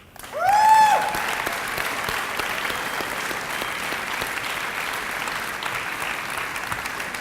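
A school awards-day audience applauds a student finalist called up for an award, bursting into steady, dense clapping that holds evenly to the end, with a brief whistle or cheer at the start.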